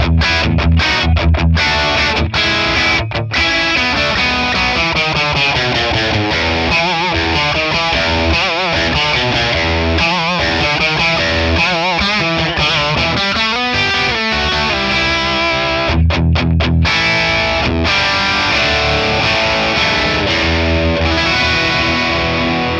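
A Telecaster runs through a Friedman Plex amp model on a crunch setting, playing a continuous distorted guitar passage with strummed chords and single-note lines, loud and close, with no talking.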